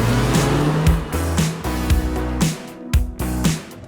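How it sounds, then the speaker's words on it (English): A Ford Sport Ka drives on the road, its small engine revving up and dropping repeatedly through quick gear changes, loud and close with a buzzy, steady note between shifts. "So with the C2 driven, we got the mighty KA car out on the road."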